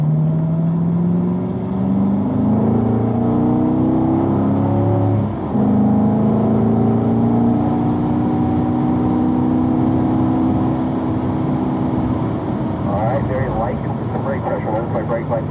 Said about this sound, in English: start to squeeze that throttle back down there, Mike.